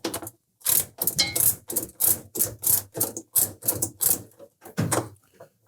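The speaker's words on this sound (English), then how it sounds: "using a 13mm socket, we simply need to loosen those bolts" A ratchet with a 13mm socket loosens the shock bolts on a Samsung washer, its close, loud clicks coming in a rapid, regular series of bursts, about a dozen strokes in quick succession.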